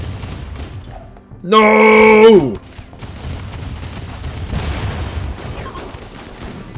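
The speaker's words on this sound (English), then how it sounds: "The grenade wasn't as bad as I was worried." A grenade blast in the colony game Rimworld bursts out for about a second, loud and harsh, with a shouting voice and ongoing game noise around it.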